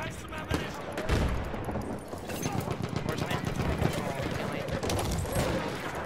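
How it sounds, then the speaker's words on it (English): Shotgun fire in a multiplayer video game, with rapid overlapping blasts and other gunfire in a dense, continuous barrage, loud and busy, while players talk over it. "this shotgun shreds"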